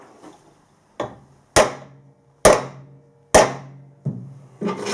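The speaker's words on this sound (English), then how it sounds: "Right, nice rubber hammer." A rubber hammer pounds a template to mark four stud-hole positions for drilling: six or so separate, firm, thudding blows at roughly one-second intervals, close by and with no talk.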